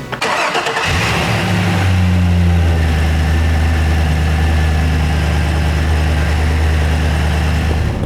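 A Toyota Land Cruiser FJ62 engine, after a body-off restoration, cranks and starts, then settles into a steady, loud idle with a deep rumbling hum that continues to the end.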